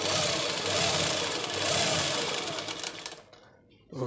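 Sewing machine stitching falls onto a saree, a close, fast steady whirring run that slows and stops near the end, with a voice speaking over it.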